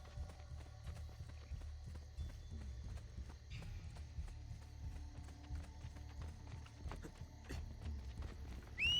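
Horse hooves clip-clopping at a steady trot in the Renaissance Rome setting of Assassin's Creed: Brotherhood, a continuous low rhythmic patter with a brief whinny, moderately quiet under game ambience.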